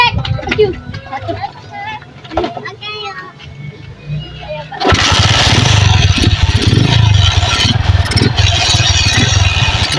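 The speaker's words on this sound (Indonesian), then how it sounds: "Oke, karburator sudah terpasang. Sekarang kita coba nyalakan mas." Around five seconds into the clip, a motorcycle engine starts and settles into a loud, steady idle after its carburetor has been serviced, replacing earlier talk and children's voices in the background.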